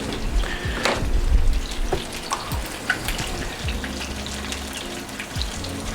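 Steady sizzle of a steak searing in a frying pan for steak au poivre, a broad hiss close by with a few low knocks and clatters, no one speaking.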